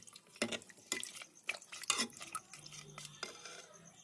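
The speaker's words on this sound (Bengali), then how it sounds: "আমি জল দিলাম।" Water pouring and splashing into a pan of chicken curry to make gravy, several short, quiet sloshes and clinks of a pot in a kitchen, no voices.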